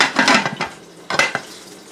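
A pressure cooker holding four potatoes to boil has its metal lid locked down, making two short bursts of clattering metal close by, with a brief pause between them.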